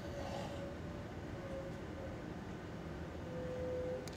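The Sembrani executive train standing at Bojonegoro station, a steady rumbling interior hum with faint tonal whines that come and go, even and continuous with no talk.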